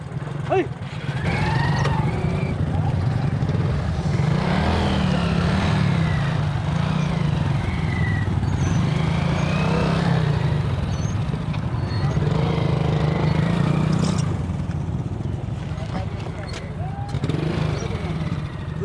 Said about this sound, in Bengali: আমরা এখন বাইক দিয়ে যা আসি বাইক চালাইতেছি